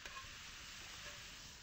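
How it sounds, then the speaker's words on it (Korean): Cabbage stir-fries in rendered bacon and ham fat, a steady dense sizzle with faint stirring scrapes, close and continuous with no talking. "베이컨하고 햄 거기에서 이렇게 지방이 나와가지고 양배추가 지금 잘 볶아지고 있습니다."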